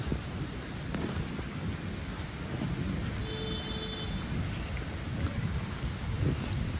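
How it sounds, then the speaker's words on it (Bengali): Heavy rain falls in a dense, steady wash with a low rumble beneath, continuous and fairly loud throughout with no voices over it. "এই দেখেন বৃষ্টির কি অবস্থা, বৃষ্টি এখনো পড়তেছে আবার"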